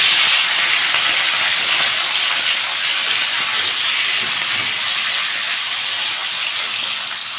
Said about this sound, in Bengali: কড়াইতে তেল গরম করে নিয়েছি। প্রথমে মাথাগুলো ভেজে নেব।